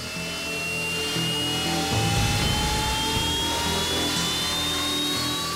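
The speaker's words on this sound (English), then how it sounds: "Engines are started and the aircraft line up for takeoff." Navy jet aircraft engines whine and spool up on a warship deck, a rising high-pitched tone over a heavy, continuous roar, loud and close with no voices.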